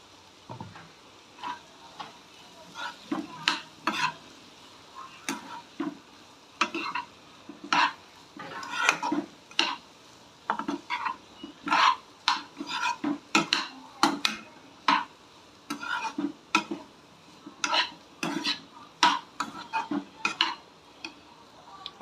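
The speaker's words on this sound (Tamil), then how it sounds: "அடுத்து துருவி வச்சுருக்க தேங்காவை சேர்த்துக்குவோம்." Grated coconut stirred into carrot poriyal in a pan, repeated scraping clacks of a spoon against metal in uneven bursts, close and clear, with a light sizzle beneath.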